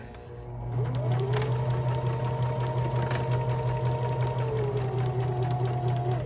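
A sewing machine backstitches through fabric, its motor whirring up to a steady, close hum that runs continuously with a faint rhythmic needle clatter.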